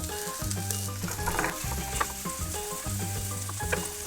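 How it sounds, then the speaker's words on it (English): Butter and flour cook into a roux in a pan, a soft steady sizzle with occasional light stirring, largely masked by tuneful background music. "Melt some butter, add equal amounts of flour to it."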